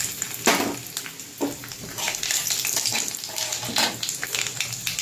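Black cumin seeds and two dried chillies sizzle and crackle in hot oil for a tempering, a steady close frying hiss with sharp spitting pops scattered throughout and no voices.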